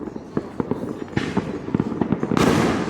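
Fourth of July fireworks in Allentown bursting in a dense, crackling barrage of sharp pops and booms, with a louder roaring burst near the end, close and loud throughout.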